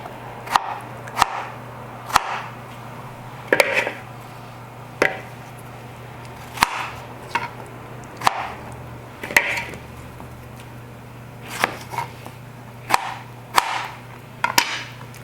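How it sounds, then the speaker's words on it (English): A knife chops strawberries into slices for sangria on a cutting board, a series of distinct, irregular thuds and knocks close by, separated by short pauses, with no talking. "So now I am just gonna chop up the fruits."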